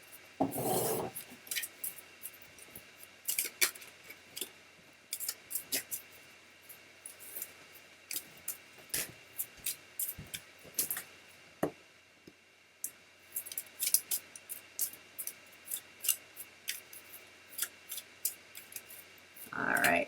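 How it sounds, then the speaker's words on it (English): Divination cards are shuffled by hand, giving soft rasping riffles and sharp flicking bursts that come and go in irregular clusters over a quiet background. "All right, Erica, I am shuffling for you."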